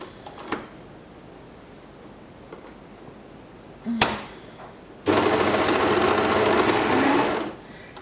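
A sewing machine stitches binding onto a bodysuit, starting with a few soft clicks and handling taps, then a loud, close, steady run of rapid stitching for about two and a half seconds before it stops.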